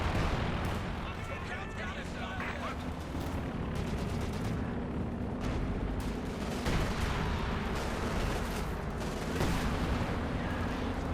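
A Company of Heroes 2 battle with dense, continuous gunfire and booming explosions layered in a loud rumbling wash, a caster talking throughout.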